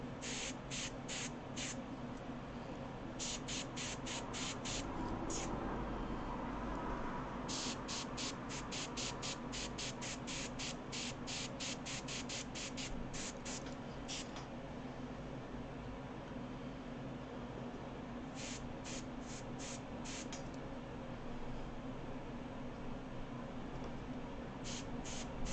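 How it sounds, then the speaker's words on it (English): Airbrush spraying paint for a watercolour painting of a monitor lizard, a steady close hiss of air running continuously, with faint intermittent high ticking bursts and no talking. "So while I've got the airbrush going,"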